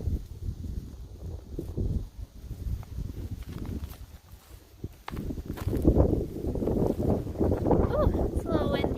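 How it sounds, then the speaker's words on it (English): Gusty wind buffets the microphone with a low rumble that grows stronger in the second half, while people talk nearby outdoors with a small falcon. "Oh, it's a little windy."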